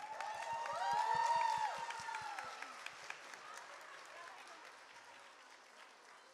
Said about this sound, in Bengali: ট্রিটনের জন্য আরও একবার জোরে হাততালি হয়ে যাক